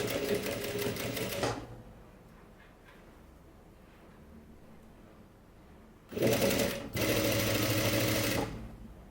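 A sewing machine stitches fabric over a zipper on a baby swimsuit, running in two short bursts of steady stitching with a quiet pause between, close by and fairly loud.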